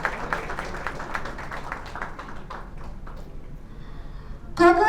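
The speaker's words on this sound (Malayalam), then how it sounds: "നല്ലൊരു കൈയടി കൊടുക്കാം." Audience applause at a Malayalam film press meet for the re-release of Devadoothan, greeting a veteran director; a dense, steady patter of many hands clapping through the room, thinning gradually toward the end, with a brief louder noise closing it.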